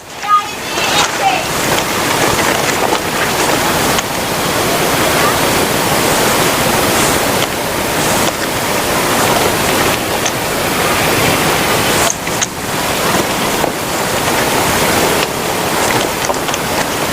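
Rushing water of the Agos River in Rizal, a steady loud broadband roar of flowing current filling the whole stretch without a break, with no talk over it.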